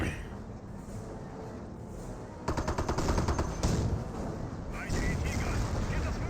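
A G43 rifle squad fires on enemy riflemen in Company of Heroes 1, giving rapid rattling bursts of gunfire that grow louder midway, with a commentator talking over the battle.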